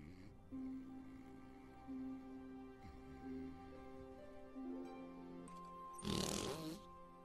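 Musical arm farts squeezed out by hand, a series of buzzy, tooting notes held at different pitches, ending in a louder, wet, sputtering burst.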